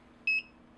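Cheap Aliexpress metal detector sounding on a brad nail at very close range, two short, bright electronic beeps half a second apart over a faint hum.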